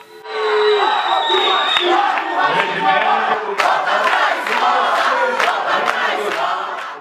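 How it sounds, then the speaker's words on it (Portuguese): Angry crowd at a city council vote on an education plan in Contagem booing councillors, a loud sustained mass of shouting and jeering voices with sharp bangs and claps mixed in, filling the room throughout. "O vereador Léo Mota foi um dos parlamentares mais vaiados."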